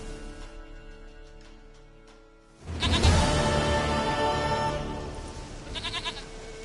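A goat bleats loudly and close in the Witcher 3 video game, a sustained wavering cry that fades out, with a softer bleat near the end.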